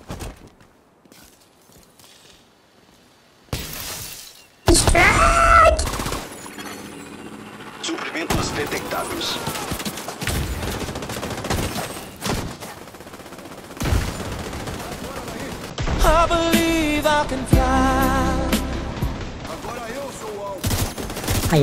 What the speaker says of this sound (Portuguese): leva um monte de tiro na bunda aí